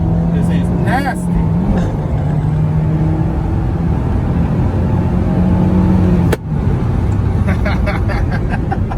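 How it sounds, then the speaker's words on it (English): A 2007 Honda S2000 AP2 sports car driving, its engine a steady drone with a brief rise in pitch, loud and close inside the cabin, with a sharp thump near the end and people talking over it. "Yeah, drive the S2000."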